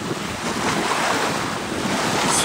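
Steady roar of wind buffeting the microphone over rough, whitecapped surf on a lake in the Cariboo region of British Columbia, with waves churning continuously close by and no voices.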